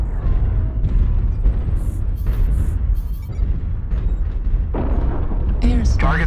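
Missile impacts in the mech combat game MechWarrior Online, a dense barrage of booming explosions and bursts rumbling continuously in a tunnel brawl, with short high crackles between hits.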